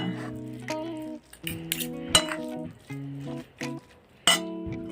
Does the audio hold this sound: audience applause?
no